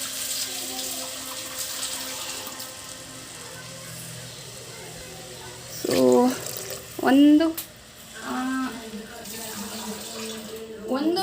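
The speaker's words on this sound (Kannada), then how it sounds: "ಸ್ವಲ್ಪ ಕಾಯಿ ರುಬ್ಬಿ ಉಳಿದಿದ್ದಂಥ ನೀರನ್ನ ಹಾಕ್ತಾಯಿದ್ದೀನಿ." Leftover water from grinding coconut is poured into a pot of spiced rice for tomato bath, making a steady close trickling splash throughout, with a person briefly talking partway through.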